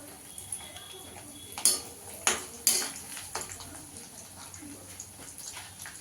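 Coconut frying in a pan while being stirred for homemade chanachur, with a few sharp metallic clanks of the utensil against the pan over a soft, steady background.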